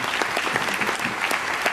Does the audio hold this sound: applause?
yes